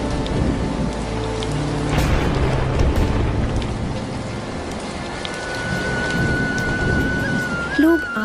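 Steady rain falls in a cartoon village scene, a broad continuous hiss with low rumbling like distant thunder, and a brief rising tonal sweep near the end.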